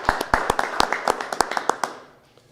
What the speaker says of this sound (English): So how about a round of applause for them?